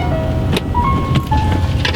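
A 2010 Nissan Altima on a short test drive after rear brake pad and rotor replacement, with loud close cabin and road noise and a few whining tones and clicks, no talk.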